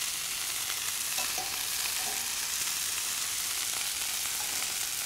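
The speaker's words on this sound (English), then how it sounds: "And just stir fry." Vegetables, freshly drained from boiling water, stir-frying in a hot pan for a Keralan vegetable stir fry, giving a steady, loud, continuous sizzle and hiss throughout with faint stirring scrapes and no talking.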